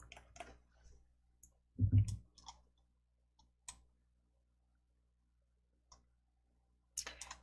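A computer mouse clicks a few times while working in PowerPoint, with sparse, quiet, isolated clicks spread across the stretch and one louder, fuller tap near the middle.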